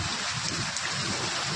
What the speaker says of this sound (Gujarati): ફૂલ કડાકા ભડાકા સાથે વરસાદ આવી રહ્યો